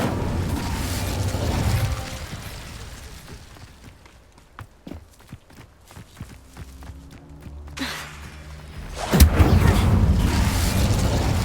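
An Incendio fire spell being cast in Hogwarts Legacy, a loud whooshing blast near the start and another near the end, with softer thuds, clicks and a low hum in between.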